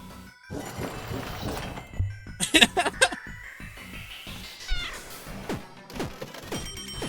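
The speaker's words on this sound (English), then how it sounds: "always Meow on attack" A cartoonish cat meow on attack rises amid a flurry of effects in a Dante's 9 playtest, including sharp crashing and shattering sounds and clinks, fairly loud and busy.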